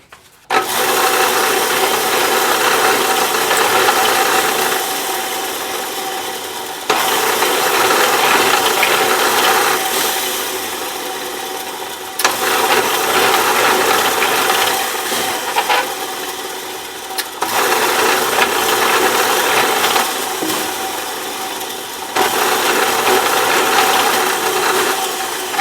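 A drill bores string-through ferrule holes in a guitar body, a loud continuous grinding whir in long runs broken by short pauses, with no talking.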